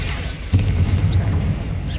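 A Bombarda spell goes off in Hogwarts Legacy, giving a single sudden boom followed by a low rumbling tail that carries through the rest of the moment under steady game ambience.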